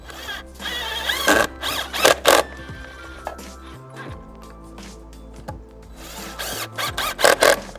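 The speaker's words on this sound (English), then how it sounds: "go in with the screw with the driver" A driver runs a screw into wood to fix a handle in place, giving bursts of whirring, ratcheting drive noise near the start and again at the end, with quieter mechanical clicks and handling in between; no one speaks.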